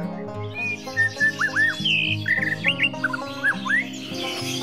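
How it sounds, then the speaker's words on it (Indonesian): Trained white-rumped shama (murai batu) singing, a series of clear, loud whistled and rising notes in short phrases, heard over a steady background of layered tonal music. "Burung murai batu yang dilatihnya perlu perhatian intensif agar dapat berkicau merdu."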